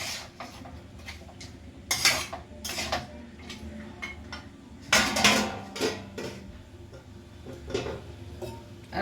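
A metal spoon scrapes and knocks against a pan while ginger-garlic paste is stirred, then a lid clatters on, sharp irregular clinks and taps standing out loudly between quieter scraping in a home kitchen.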